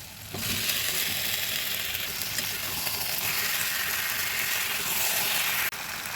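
Taro and potato fry and get stirred in hot oil, giving a loud continuous close sizzle that starts abruptly and runs steadily, with a brief dip near the end.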